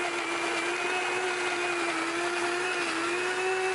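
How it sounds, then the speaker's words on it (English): A blender whirs steadily through tomatoes, cilantro, onion, salt, cumin, chili powder and paprika for a raw salsa, its motor a loud, continuous, even drone with no voices. "Now I'm going to blend."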